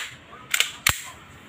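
Two sharp cracks from a Glock 17 Gen 3 replica pistol with a silver slide, fired in a test about a third of a second apart, close and loud against a quiet room.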